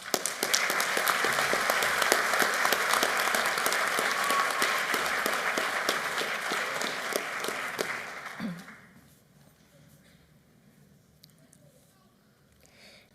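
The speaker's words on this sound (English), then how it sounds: "Join me in giving Regina and Jeffrey another big round of applause." Graduation audience at a GED ceremony gives a sustained round of applause, dense and fairly loud for about eight seconds, then fading quickly into a quiet room.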